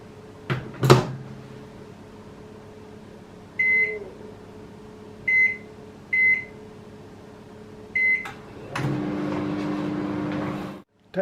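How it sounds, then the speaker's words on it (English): A microwave melting white chocolate hums steadily while four short electronic beeps sound at even intervals, followed by a louder whir and a closing clunk. "Zap for 20 seconds in the microwave."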